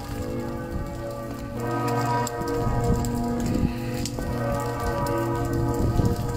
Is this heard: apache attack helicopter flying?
no